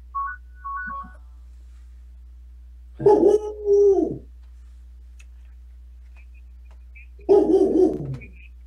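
A dog barks in two separate bursts, a few seconds apart, fairly close and loud, with a faint electronic tone earlier.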